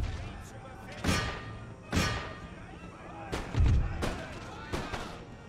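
Artillery firing in the Empire: Total War video game, a series of five or six heavy booming shots at irregular intervals over a constant battlefield din, with a person talking.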